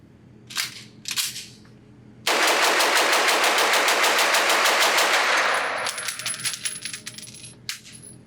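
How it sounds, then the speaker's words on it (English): Rapid strings of sharp pistol shots at a shooting range from a handgun fitted with a Vector Optics Frenzy-X Gen II titanium red dot, with two short bursts, then a long loud volley, then scattered shots and tinkling brass. "shoot this gun fast, and make sure it holds up under the stress of being shot quickly"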